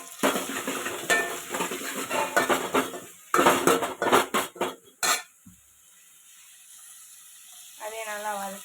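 Tomatoes being sautéed in a pan for a coconut-free fish curry, with loud irregular scraping and clattering of a spoon against the pan in bursts, then a quieter stretch and brief voice near the end.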